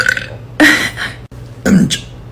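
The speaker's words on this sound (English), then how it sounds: "So this is my burp talk." A young woman burps loudly several times in a row, long rumbling belches close to the microphone with short pauses between them.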